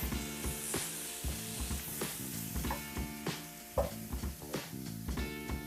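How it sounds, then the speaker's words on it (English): Sausage dropping into a hot pot of cooking pastalaya and sizzling, with steady frying crackle and a few stirring knocks over a dense, busy background, moderately loud with no talking. "We're going to go ahead and add our sausage in."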